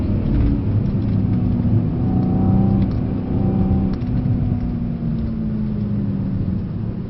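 A Mercedes C63 S AMG driven flat out on a track fills the cabin with a loud, steady engine drone and low rumble, pitch rising and falling gently throughout.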